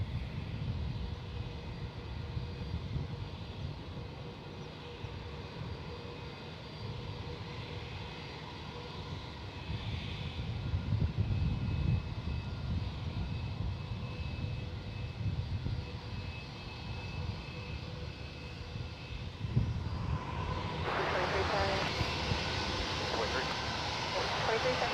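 An Airbus airliner's engines roar steadily at San Francisco International Airport, a broad, continuous drone that swells louder toward the end, with voices talking over it throughout.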